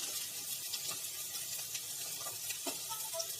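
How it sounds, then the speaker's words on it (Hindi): Pumpkin and eggplant for a Bengali mixed-vegetable chor chori hit a hot pan and sizzle steadily, a fairly soft, even frying hiss with small crackles and no talk. "अब डाल देंगे सीताफल, बैंगन भी साथ में ही डल जाएगा।"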